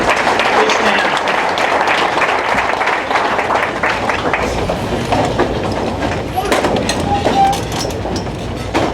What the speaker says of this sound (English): A round of applause for the kids.